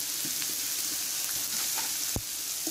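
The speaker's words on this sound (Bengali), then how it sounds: "এখন পেঁয়াজটাকে ভেজে নিই" Onions with salt and a little sugar fry in a pan over a wood fire, a steady close sizzle with faint stirring clicks and no talking.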